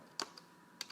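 Typing on a computer keyboard while setting up a WordPress website, two short pairs of crisp key clicks spaced apart against a quiet background.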